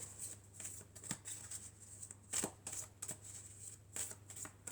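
Oracle cards of the Triade deck are shuffled and drawn by hand, giving a close, soft run of riffling swishes and light flicks with sharp taps at irregular moments. No voices are heard.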